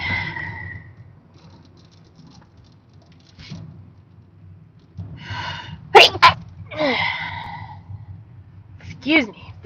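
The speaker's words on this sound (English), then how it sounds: "Yes, the sanitizer making me sneeze, man, sneezies." Sneezes set off by strongly fragrant hand sanitizer, heard as a burst of two or three sharp sneezes in the middle, with quieter breathy sounds and a sigh on either side, close and loud inside a car.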